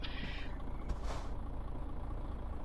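A MAN truck in Euro Truck Simulator 2 brakes to a stop: a short hiss of air brakes bursts out midway over a low, quiet engine drone.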